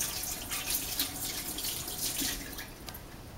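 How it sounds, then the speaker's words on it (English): Kitchen tap running while fingers are rinsed of raw meat during homemade banitsa making, a steady close splashing rush of water into a sink with no talk. "So I need to wash my fingers because I've been touching meat."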